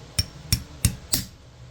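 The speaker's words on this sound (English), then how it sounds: "We'll grab a hammer and a punch." Hammer driving a punch to tap a part into a Marlin Crawler 30-spline transfer case, four sharp metallic strikes spaced roughly evenly, close and clear with quiet between blows.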